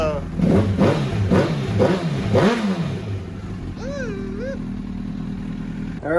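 Honda CBR 1000RR motorcycle engine revving in a series of short throttle blips during the first few seconds, then settling to a steady idle, with people talking close by.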